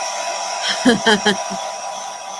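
A hair dryer blows steadily on a damp craft piece, a close, continuous whooshing drone with a faint tonal whine, and a few brief spoken words rise over it.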